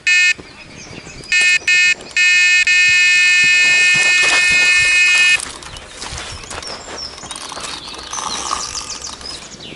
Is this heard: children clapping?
no